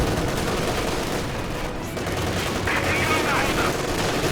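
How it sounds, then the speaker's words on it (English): Machine gun fire in Company of Heroes 2 as Grenadiers are cut down in the open: a dense, sustained rattle of loud automatic gunfire mixed with other battlefield noise, with a voice faintly underneath. "Look at these guys getting absolutely shredded by the machine gun"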